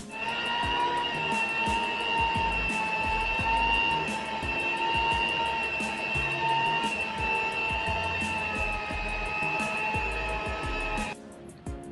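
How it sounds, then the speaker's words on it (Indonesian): Stand mixer running steadily while kneading bomboloni doughnut dough, a continuous motor whine with a faint rhythmic clatter of the bowl throughout, stopping abruptly near the end. "Jadi kita perlu uleni lagi atau di mixer lagi."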